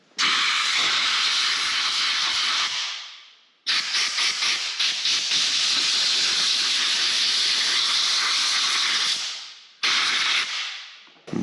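Compressed air blasts loudly while blowing out and cleaning a part on an ageing CAT 299 compact track loader, with long steady hissing bursts separated by brief cutoffs.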